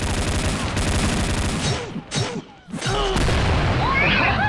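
An explosion and gunfire sound in XSHOT, a Point Blank-style shooter, as loud booms and bursts with a brief drop to near quiet midway.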